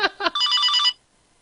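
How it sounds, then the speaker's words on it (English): A telephone gives one brief electronic ring, close and clear, starting with two short chirps and then a sustained warbling tone that cuts off into silence. "Oh, phone call."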